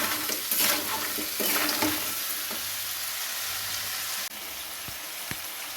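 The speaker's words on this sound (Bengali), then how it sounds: "এখন আমি এই কাঁকড়াগুলোকে ভালো করে ভেজে নেব।" Crabs seasoned with salt and turmeric fry in hot oil for a Bengali-style spicy crab dish. The close, steady sizzle carries throughout, with a few louder bursts of crackling near the start and a couple of soft clicks toward the end.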